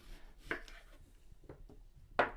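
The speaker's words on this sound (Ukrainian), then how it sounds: "Цибулину та морквину також нарізаємо на ось такі половинки." A knife halving an onion and a carrot for vegetable stock, giving a few separate, fairly quiet chopping thuds against a board.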